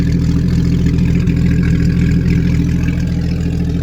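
Steady idle of an engine fired up for the first time in a long time, running on the stock exhaust it came with; a continuous, even low rumble close by with no revving and no talk.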